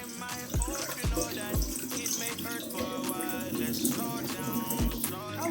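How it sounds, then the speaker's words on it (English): Kitchen tap water runs steadily into a sink, a dense continuous splashing with a few dull knocks underneath, loud and close throughout. "This is the water. I'm going to turn it off."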